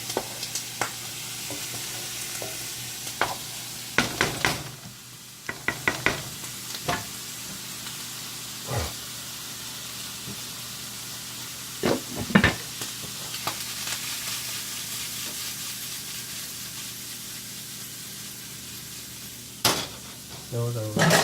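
White shrimp sizzle in a frying pan for chowder with a constant close hiss, broken up by several sharp spatula scrapes and stirring knocks throughout.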